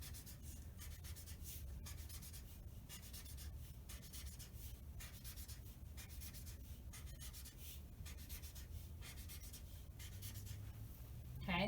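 Faint scratching of a pen drawing little stars on paper, a quiet, continuous rhythm of short strokes and rubbing close to the microphone.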